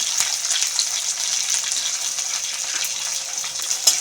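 Onion with crushed chilli, ginger and garlic frying in a pan for a simple potato dish, a steady loud close sizzle with faint stirring clicks and no talking.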